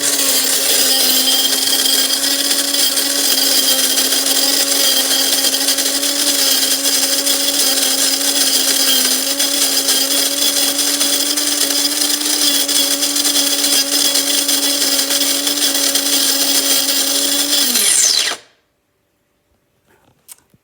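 An electric coffee grinder grinds whole coffee beans in one loud, steady, high-pitched whir at close range, holding constant for about eighteen seconds before spinning down abruptly into near silence, with a few faint clicks after.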